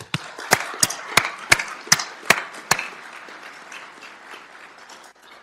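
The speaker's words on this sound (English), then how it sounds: "Let's give a round of applause for the families and friends." Family and friends at a police academy graduation ceremony clapping, with a series of sharp, evenly spaced loud claps up close over softer scattered applause that fades out.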